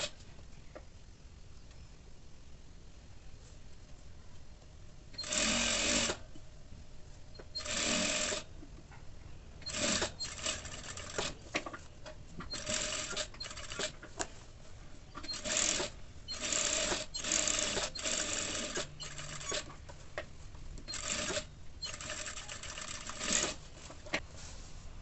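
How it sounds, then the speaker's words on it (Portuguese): Sewing machine stitching the waistband onto the front of a pair of panties, running in repeated short bursts of steady whirring separated by pauses and small handling clicks, close and fairly loud. "Agora vamos prender o cos, costurar o cos na parte da frente"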